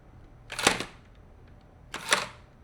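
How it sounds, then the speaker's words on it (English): Speed Graphic focal plane shutter set to its fastest speed fires with a sharp, solid mechanical snap, followed a second and a half later by a second crisp snap of the shutter locking; both close and distinct in a quiet room. "now when I press the shutter button"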